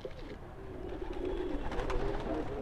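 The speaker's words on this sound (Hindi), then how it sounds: "भाई का ये कबूतर है दोस्तों, बहुत ही अच्छी क्वालिटी का।" A high-quality show pigeon coos softly and steadily at close range, a low, rolling murmur that continues throughout with no talking.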